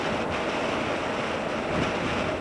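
Steady, loud wind roar buffets the microphone while riding a Honda NC700X motorcycle with its stock windshield, a constant broadband rush with no break and no voices.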